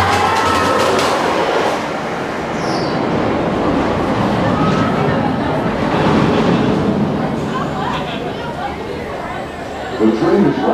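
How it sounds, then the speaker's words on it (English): A rumbling roller coaster train rolls into the station of Montezooma's Revenge at Knott's Berry Farm with a continuous clattering roar that stays loud for the full stretch, while muffled voices chatter faintly underneath. "The train is rapidly approaching the station."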